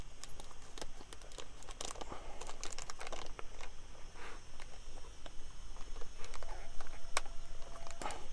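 Close, continuous crinkling and rustling of a plastic bag holding a Royal Enfield Meteor 350 toolkit, with irregular sharp crackles as it is handled and pulled.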